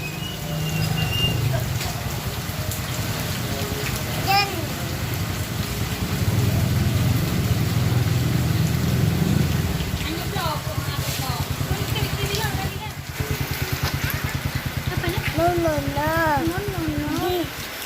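Continuous patter of rain with a low rumbling hum beneath, while a family talks over it in rising, sing-song voices as a small child plays in the rain.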